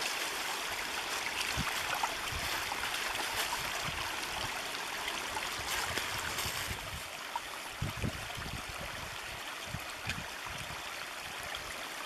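A mountain stream rushes continuously nearby, a steady broadband wash of flowing water with faint occasional knocks and no voices.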